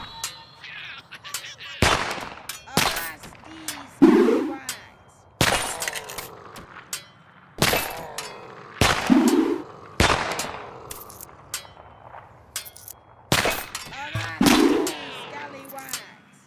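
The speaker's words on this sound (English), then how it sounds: "stop shooting us! With cannons." Cannon fire from pirate ships in the pixel-art video game Pixel Piracy: sharp, loud booming blasts recur every second or two through the stretch, and game sound effects and faint clatter run between them.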